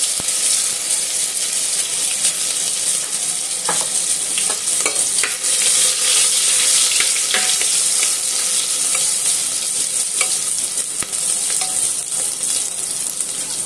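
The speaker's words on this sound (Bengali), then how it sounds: "আদা পেস্ট খিনি অকমান ভাজা হলে" Ginger paste sizzles loudly and steadily in hot oil with cinnamon, cardamom and cloves for a vegetable pulao, a dense crackling fry broken by occasional scraping stirs close by.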